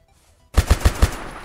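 An M16A2 rifle with an M203 grenade launcher, in the Vietnam mod of the video game Unturned, fires a rapid burst of four loud, punchy shots after a brief quiet lead-in, followed by a short decaying tail.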